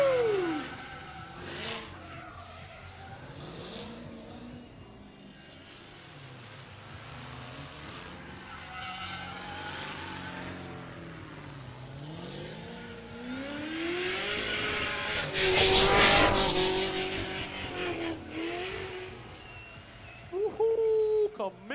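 Drift car at a drift pit, engine revving hard with tire squeal and skidding, rising to a loud peak near the end, with people talking and cheering over it.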